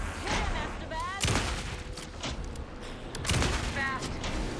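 Gunfire in the video game Alan Wake 2 rings out as a few sharp shots over a busy, noisy game soundscape, with voices talking underneath.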